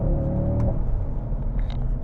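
An Audi RS3 sedan accelerates on wet roads, its engine a loud, steady rumble and rising whir that holds close and constant for two seconds with no talk over it.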